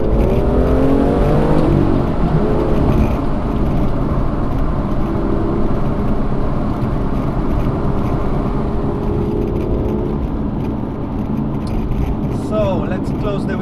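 A BMW M2 with the N55 engine accelerates hard in Sport Plus mode on a road out of town, a loud continuous engine drone heard from inside the cabin with wind noise and a person talking over it.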